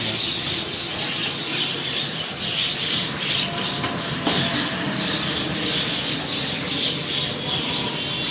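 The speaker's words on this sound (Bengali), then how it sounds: "প্রচুর পাখি। এই যে পাখি অনেকে দেখতে পাচ্ছেন।" A large flock of myna birds calls all at once outdoors, a dense, continuous chatter of squawks and chirps with no pause.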